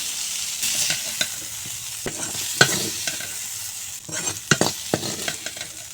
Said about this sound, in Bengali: আর সামান্য লবণ দিয়ে আলু ভেজে নেব